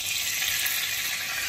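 Cooking oil left over from frying chicken pours into a hot kadhai already holding ghee and cinnamon, producing a steady, close, bright sizzle with no talking.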